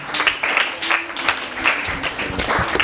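An audience at a school debate gives a speaker a burst of applause, with dense, fairly close clapping that carries on steadily throughout.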